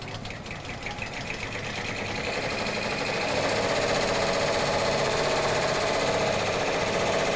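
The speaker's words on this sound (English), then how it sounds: "So I'm going to start it and the design starts and stitches out." A Brother PR-series embroidery machine stitches out a design, a fast steady mechanical chatter that builds up and settles into a continuous loud whirring rhythm.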